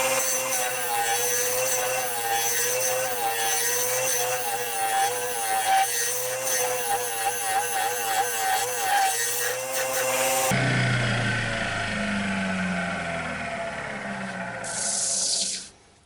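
Wood turning on a lathe as a straight carbide-tipped scraper cuts a wooden pot pourri bowl, a steady close grinding and scraping with motor hum that shifts to rougher, brighter shaving about two-thirds through, then stops.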